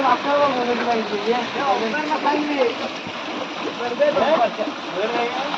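Water pours and splashes down steadily from above, a continuous running gush with a person talking over it.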